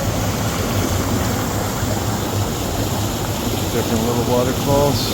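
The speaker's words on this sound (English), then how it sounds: "Different little waterfalls." Small waterfalls along a river rush in a steady, broad wash of water, close and continuous, with a brief voice near the end.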